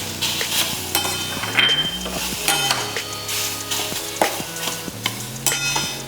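A spoon works banana into semolina roasting in ghee for sheera, giving rhythmic scraping and stirring strokes against the pan with a soft sizzle underneath.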